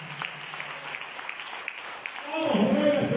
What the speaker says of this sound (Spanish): Si le rinde palmas, désela fuerte al Señor